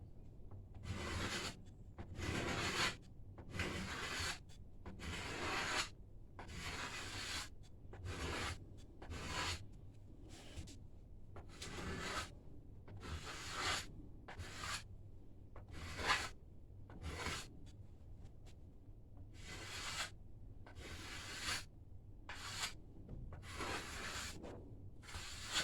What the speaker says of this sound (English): So just some light scraping.